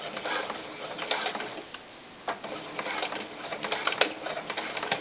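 A sewing machine stitches doll snakeskin boots with a walking foot, producing a steady mechanical whirring patter that is briefly interrupted before it resumes.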